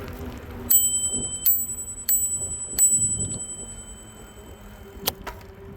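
A bicycle bell on a rural trail rings five sharp metallic dings, the first four evenly spaced and a last one after a pause, bright and close over quiet outdoor background.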